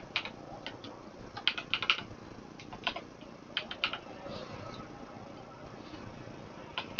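Typing a keyword on a computer keyboard: irregular bursts of light, crisp key clicks, close and quiet, with clusters early and late and a calmer stretch between.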